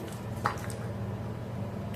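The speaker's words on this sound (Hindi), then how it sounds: "अब फिर से हम डाल देंगे इसमें आधा गिलास के करीब पानी और इसे फेंटते जाएंगे" Maida batter is whisked by hand with cold water, giving soft wet squelching and sloshing with one brief sharper tap, close and moderately quiet.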